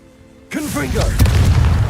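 A Confringo spell bursts into a loud explosion in the Hogwarts Legacy video game, cutting in suddenly after half a second of silence and rolling on as a rumbling blast with voices under it.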